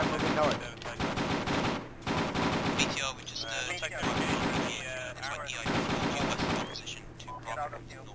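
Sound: gunfire in a video game

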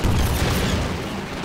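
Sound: Half-Life 2 gunship gunfire shooting down rockets, video game

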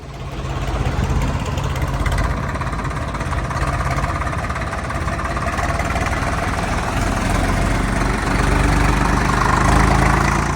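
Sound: Swaraj 744 tractor engine idling

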